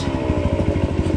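A trail motorcycle engine labours on a steep off-road climb, a loud close rumbling drone with a fast, even throbbing pulse throughout, no voices heard.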